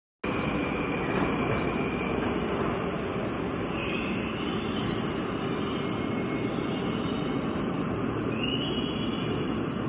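A Moscow metro train on the red line rolls into a station with a loud, steady rumbling roar, brake squeals rising over it now and then as it approaches.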